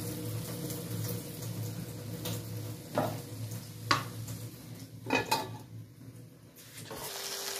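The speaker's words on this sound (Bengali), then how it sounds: "জল দিয়ে দেবো, ব্যাস।" Water splashes and clinks in a kitchen as a rinsed bowl is emptied into a pan, with a few sharp knocks of metal and dishes. The sounds are close and moderate against a steady low hum, and no one speaks.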